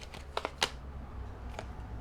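Tarot cards are drawn from a deck and flicked out, giving a few quick crisp snaps and rustles close by, then a softer slide before a quiet pause.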